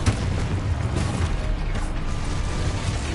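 Continuous rumbling blast from the Confringo fire spell in Hogwarts Legacy, a loud, broad roar without breaks.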